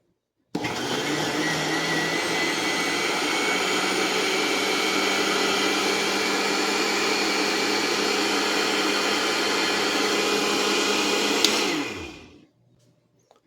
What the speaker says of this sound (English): So we're going to blend this until it's smooth